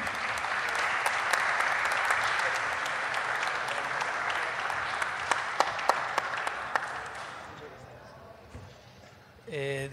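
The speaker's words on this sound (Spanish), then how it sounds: "Un aplauso para él." Conference audience at an AES Argentina year-end panel applauding a panelist, broad sustained clapping that gradually thins and fades, ending with a voice over a microphone.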